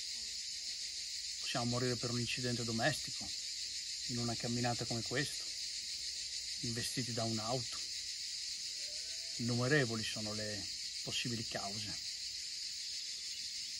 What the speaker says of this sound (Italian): il frire delle cicale è sempre presente.